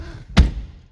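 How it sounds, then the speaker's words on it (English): A single dull thud of a 2012 Mercedes-Benz CLS550 4MATIC door shutting, short and close, with quiet cabin background around it. "I just closed the door if you heard"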